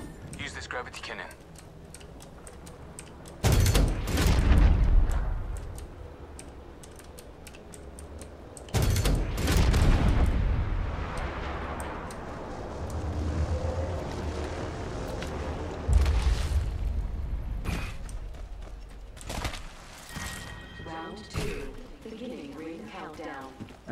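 Gunfire and explosive booms from a battle royale game ring out in several loud bursts, with sharp shots and rumbling blasts separated by quieter stretches.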